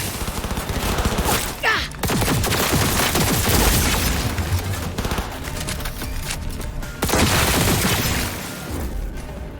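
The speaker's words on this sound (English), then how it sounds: "this precision rifle killed them so fast" Rapid rifle fire from a Cyberpunk 2077 precision rifle during a hard combat fight, a dense run of sharp repeated shots with loud cracks and booms, a brief dip near two seconds and another heavy burst later.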